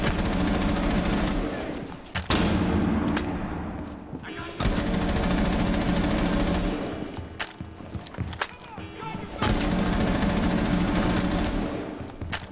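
Sustained automatic gunfire in Rainbow Six Siege, loud, continuous bursts broken by brief pauses around two, four and eight seconds, with the weapon's recoil being controlled during steady firing.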